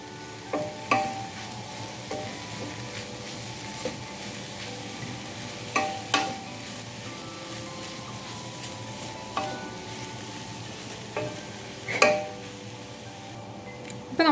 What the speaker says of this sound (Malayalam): ഇനി നമുക്ക് ഇതിലേക്ക് നമ്മുടെ ചിക്കൻ കൂടി ഇട്ട് കൊടുക്കാം. ഇനി ഇത് കൂടി നന്നായിട്ട് മിക്സ് ചെയ്ത് കൊടുക്കാം.